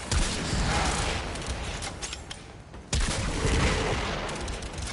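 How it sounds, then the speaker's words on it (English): A cannon-like shotgun fires in the video game Warframe, producing loud, dense bursts of explosive gunfire that fill the whole clip, with a brief dip before the blasts resume. "I'm pretty sure this is technically a shotgun. I mean, it's a cannon."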